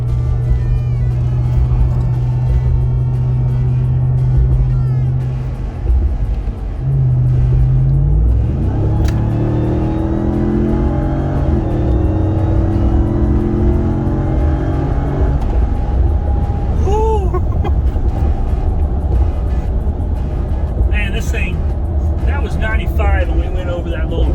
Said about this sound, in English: I want you to listen to the supercharger whine.